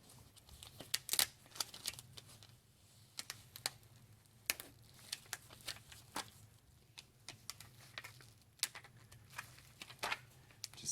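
Excess heat transfer vinyl being peeled and weeded off its carrier sheet by hand, with sharp, irregular crackling snaps and soft tearing ticks close up over a quiet low hum.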